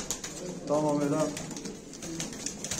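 Pigeons from a Turkish loft of tumbling show birds give a close, repeated cooing burst in the middle, with rustling and faint wing movement around it, while someone talks nearby.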